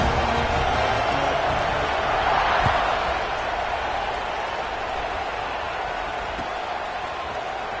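Dense, sustained roar of a large stadium crowd cheering at a kickoff in the video game College Football 26, steady and broad, with a couple of faint thuds beneath the noise.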